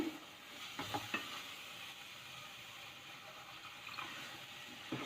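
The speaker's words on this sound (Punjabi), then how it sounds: "ਚੰਗੀ ਤਰ੍ਹਾਂ ਭੁੰਨਣ ਤੋਂ ਬਾਅਦ ਆਪਾਂ ਇਹਨੂੰ 2-4 ਮਿੰਟ ਭੁੰਨਾਂਗੇ" Masala with soybean and paneer roasting in a pan for dal, a quiet steady sizzle with a few scraping stirs of a spoon near the start and again toward the end.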